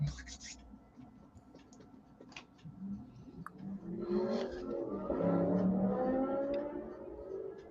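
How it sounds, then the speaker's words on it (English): A car and a motorbike pass along a main road outside a house, a muffled swell of engine noise building and fading over several seconds, heard faintly through walls with small ticking and scratching sounds nearby. "we heard a car and a bike there by the sounds of it"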